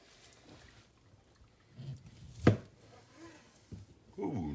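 A knife slicing into a rested, pellet-smoked brisket, a faint, close scrape and one sharp cut sound, with light handling noises around it in a quiet room.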